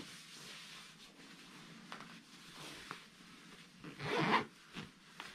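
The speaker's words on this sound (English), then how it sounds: "then you zip it up, and then the zip, it's a nice lightweight zip that goes two ways" A lightweight two-way zip on an Aegismax ultralight goose down sleeping bag is pulled up in several short, close, raspy strokes, building to a louder, longer run near the end, with no talking.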